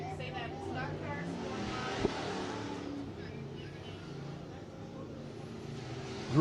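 IMCA hobby stock race cars under green flag in a hot lap session at Dawson County Raceway, a sustained engine roar with cars passing, fairly loud throughout.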